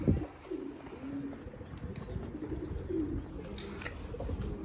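A Zubairi pigeon on a rooftop loft gives soft, low, repeated coos. They sound fairly close over light background ambience, and no one talks.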